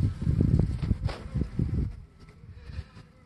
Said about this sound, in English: This beehive is pretty active.